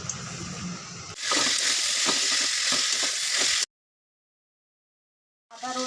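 Food frying in hot oil in a home kitchen: after a quieter opening, a bright, dense sizzle with scattered crackling pops runs for a couple of seconds, then drops to silence before a brief return of sizzle at the end.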